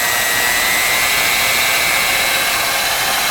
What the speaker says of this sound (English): The mixer is powered by a 1/2 horsepower. The motor by Baldor reaches a maximum RPM of